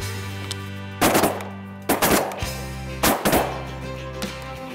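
Three loud shotgun blasts at roughly one-second intervals ring out close by from a duck blind at Reelfoot during a hunt, each with a sharp report and short outdoor tail, against a steady low hum.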